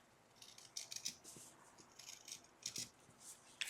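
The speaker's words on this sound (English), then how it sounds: "you're going to take your scissors, you're going to cut that little triple fold that you made." Scissors snip through a small folded fabric piece for a no-sew doll chef hat, giving quiet, crisp repeated cuts with light rustling between them, close and faint with no talking.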